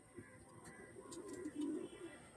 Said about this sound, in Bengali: ব্রিডার পায়রা বুঝেই যাচ্ছেন